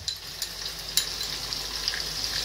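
Chicken frying in hot oil, a close continuous sizzle with occasional sharp pops and crackles.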